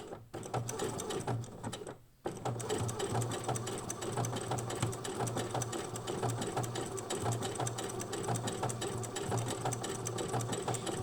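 An overlock sewing machine stitches fabric with a rapid, even mechanical whirring that runs almost continuously, pausing briefly near the start before resuming steadily close up.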